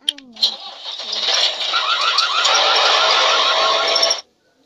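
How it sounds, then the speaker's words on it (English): Cartoon tractor engine from a children's car-building video game, a short synthetic start-up followed by a steady rattling motor hum lasting about four seconds before cutting off abruptly. "Tractor."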